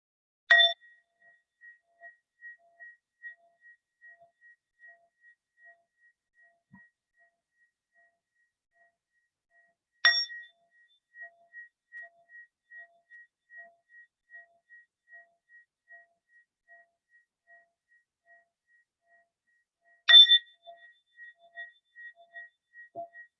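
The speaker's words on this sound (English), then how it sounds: "So we'll listen 3 sounds of the bell while following our breathing." A meditation bell struck three times at roughly ten-second intervals, each strike a clear bright ring that lingers and slowly fades into near silence before the next.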